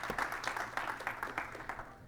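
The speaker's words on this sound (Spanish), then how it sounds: "Den un aplauso fuerte al Señor" A church congregation claps briefly in a quiet room, a soft rhythmic patter of hand claps at low volume with faint room hum beneath.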